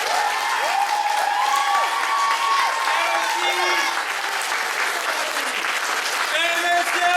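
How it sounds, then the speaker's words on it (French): An audience at an improv comedy show applauds steadily for the performers, a sustained close wash of clapping with cheers and voices mixed in, holding at an even level from start to finish. "je vous demande de l'applaudir, Monsieur Antoine"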